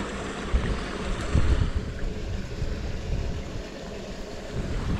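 Steady rushing water churns in a low, continuous roar, close by and fairly loud, with a faint breezy hiss on top.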